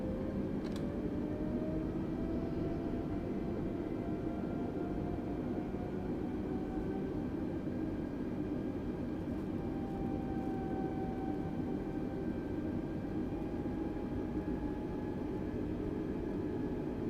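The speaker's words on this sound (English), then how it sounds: "Having a lot of trouble managing my thrust as well, but to keep the aeroplane moving at a sensible speed." An Airbus A320 in MSFS 2020 idles and taxis with a steady, faint engine whine and broadband rumble. It holds constant throughout with slowly drifting tonal hums and no talk.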